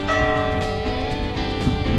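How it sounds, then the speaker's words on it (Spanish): Church bells ring at the Cathedral of Santa María in Astorga, León, their dense, sustained metallic tones filling the air continuously and loudly with overlapping strikes. "campanadas en la Catedral de Santa María."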